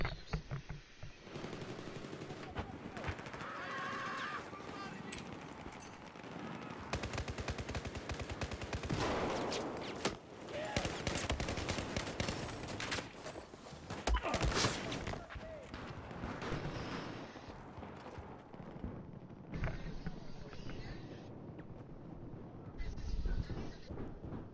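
Rapid gunfire and bursts of explosions fill a shooter video game match, dense and continuous with loud peaks, mixed with players' voices talking over the action.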